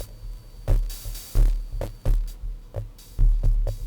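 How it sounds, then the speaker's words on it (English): A modular synth patch plays a hi-hat mix run through a Trogotronic M669 distortion, producing a steady rhythmic pulse of punchy distorted hits with noisy upper hiss, alone and fairly loud. "the mix of those is going through the Trogotronic M669 for some distortion."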